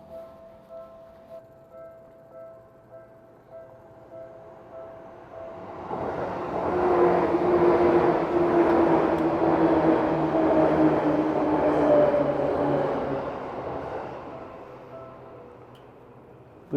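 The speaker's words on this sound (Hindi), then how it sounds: "अभी यहाँ से ट्रेन पास होने वाली है।" A train rumbles through a street-level crossing in a narrow lane in Japan, building from quiet street ambience into a loud, sustained roar close by that slowly fades.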